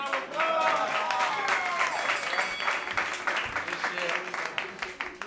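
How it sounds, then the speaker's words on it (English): Audience applause at a roast battle in a New York comedy club, sustained clapping and cheering from a crowd that gradually thins out, with a voice speaking over it. "Give him a round of applause."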